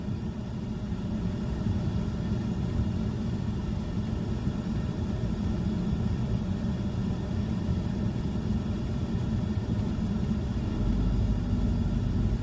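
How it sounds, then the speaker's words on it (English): A semi truck and a car driving past on a hot paved road in Richmond, Michigan, heard as a steady low rumble of engines and road noise throughout, fairly faint and without distinct peaks. "The semi truck and car go by."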